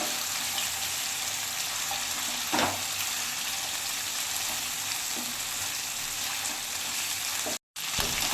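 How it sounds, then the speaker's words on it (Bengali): Chicken pieces frying in a pan for butter chicken, a steady broadband sizzle running throughout with a few soft stirring knocks and a brief cut near the end; no talking. "এই আমার লাল লাল করে ভাজা হয়ে গেছে"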